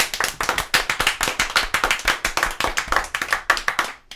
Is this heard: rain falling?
no